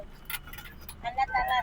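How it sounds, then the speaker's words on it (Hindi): Car keys for a small hatchback jangle briefly as they are handed over beside a fuel pump, a short metallic clinking under quiet background noise. "आपकी चाबी।"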